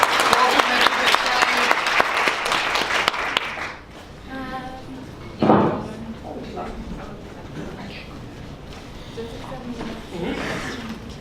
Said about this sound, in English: give Lydia a round of applause